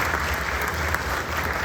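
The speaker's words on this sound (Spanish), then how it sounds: "pido un aplauso para Rafael Díaz" An audience at an academic journal presentation applauds a presenter, a steady, dense wash of clapping held at an even level throughout.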